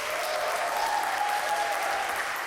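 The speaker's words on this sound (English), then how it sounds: "Give Fazia a big round of applause" An audience at a charity sleep-in fundraiser for youth homelessness in Chicago gives steady, dense applause, a continuous clapping wash at moderate level with no talk over it.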